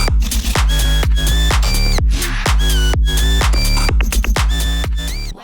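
An excerpt of a bass house track plays on its own, loud and dense, with a punchy kick pattern driving steady beats, heavy bass, and bright synth stabs and sweeps recurring throughout.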